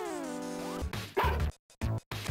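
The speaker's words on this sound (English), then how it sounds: "Woof woof, I can go back to being a dog now, right?" Boney the dog in Mother 3 barks in short yips and woofs after a sliding synth tone, with brief gaps of silence between the barks.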